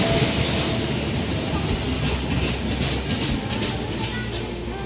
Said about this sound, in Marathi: आणि मग आमची ट्रेन आली.